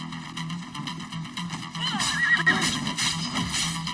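A horse neighs in the video game Destiny 2, a whinny rising over game sounds and music, with a person talking briefly.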